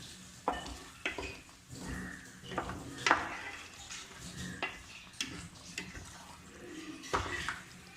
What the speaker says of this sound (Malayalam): ഇത് ഇളക്കി നല്ല രീതിയിൽ ഒന്ന് വറ്റിച്ചെടുക്കണം